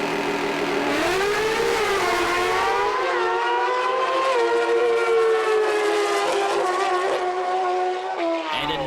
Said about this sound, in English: Morris Allen rolling up to the line now on that beautiful red motorcycle.